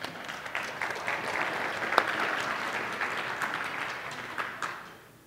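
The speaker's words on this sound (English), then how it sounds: "I would also like everyone else to give these people an applause because they're doing an awesome job" Audience at a conference talk on Linux distribution and system development applauds, a dense wash of clapping that holds steady for about five seconds before fading out, fairly distant and alone with no speech.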